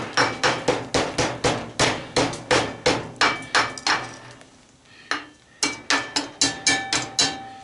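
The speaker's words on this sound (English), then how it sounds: "tap on it with a claw hammer." Rapid, sharp claw hammer taps strike the rusted metal of an old water well pump in quick bursts, with a brief pause midway before the ringing taps resume.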